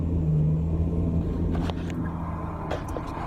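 A tractor engine throttles up while planting corn, a steady low drone running near and fairly loud with a few brief rattling bursts over it and no voices.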